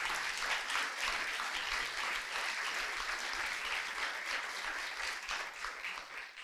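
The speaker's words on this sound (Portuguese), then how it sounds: "Aplauda o Senhor Jesus nessa noite" A church congregation applauds in praise during an evening worship service, a dense, steady wash of many hands clapping together that fills the space without pause.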